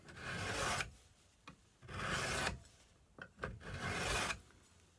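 Knife blade stroked back and forth during sharpening, three long, loud, close rasping strokes with short pauses and light clicks between them, no voice.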